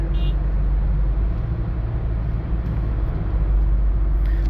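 Heavy road traffic on the way to San Pablo City, with a steady low rumble of nearby engines. A faint hiss of air brakes comes at the start and again near the end.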